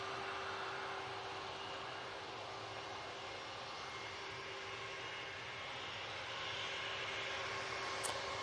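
An Air Transat airliner at Manchester Airport, heard as a steady, broadband jet roar held at an even level throughout, fairly distant and unbroken, with a constant engine tone running beneath it.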